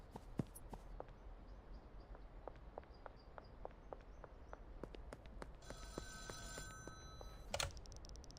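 A payphone rings in the video game Schedule 1, a faint repeating electronic ring that grows stronger toward the end, layered over quiet in-game footsteps with no talking.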